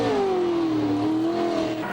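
Ford and Holden race cars rev hard at a Formula One demonstration event in Melbourne, a loud sustained engine note sweeping down then rising again, with no talk over it.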